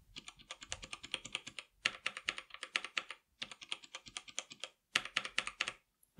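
Typing on a Logitech G513 keyboard with O-ring dampened Glorious Aura keycaps gives quick bursts of crisp, close keystrokes separated by short pauses, with no talking.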